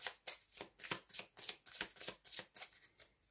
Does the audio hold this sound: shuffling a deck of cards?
yes